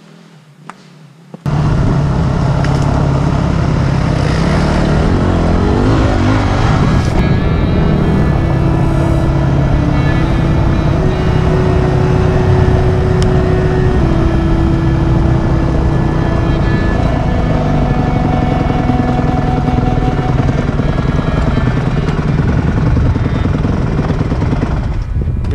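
A Honda CRF 250x dirt bike engine roars steadily and loudly through a hill climb, holding a sustained high-revving drone with shifting pitch for over twenty seconds after a quiet start, close to the rider.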